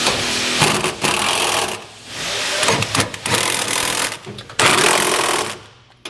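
A power impact tool tightens bolts on B and W fifth wheel underbed rails in a 2022 Ford F-350 Super Duty bed, giving loud, close, rattling bursts of hammering with brief pauses between them.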